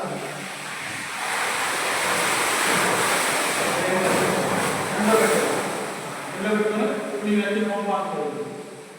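A steady rush of water runs through pipes and a filter during backwashing at a water treatment plant, with a person talking over it toward the end.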